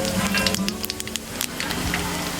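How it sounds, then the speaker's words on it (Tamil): Mustard seeds popping and sizzling in hot oil while tempering for a village-style idli sambar, a dense crackling hiss scattered with sharp pops close by, with no talk over it. "கடுகு நல்லா பொரிஞ்சிருச்சு."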